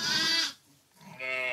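A strong young lamb gives two loud, close bleats separated by a brief pause.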